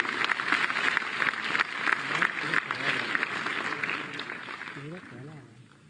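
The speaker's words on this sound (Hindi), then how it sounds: "तालियों से स्वागत कीजिए" Steady applause from an audience welcoming newly selected government job candidates at an appointment letter ceremony, continuous clapping under an announcer's voice before tapering off.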